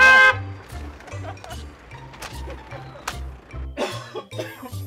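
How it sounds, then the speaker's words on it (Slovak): Several short coughs and throat-clearing bursts sound up close, separated by brief pauses over a low steady hum. "Kašli, kašli, kašli."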